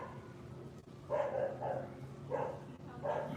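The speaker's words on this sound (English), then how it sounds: "The dogs going crazy back here." Dogs bark outdoors behind a house in short bursts of a few yaps each, moderately distant and fairly faint over a low background hum.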